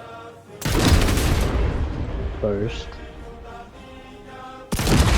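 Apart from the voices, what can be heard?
large cannon shots hitting armor in Trailmakers video game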